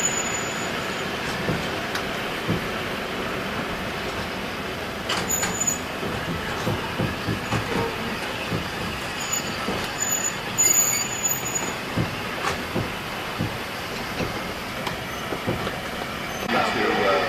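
Passenger train in West Africa rolling on rails, with steady clattering rumble, occasional wheel squeals and brief metallic screeches, fairly close and continuous, with voices talking intermittently over it.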